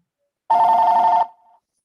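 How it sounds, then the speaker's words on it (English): A single short electronic phone ring, loud and close, breaking a silent background and then fading quickly. "Listen to your phone ringing."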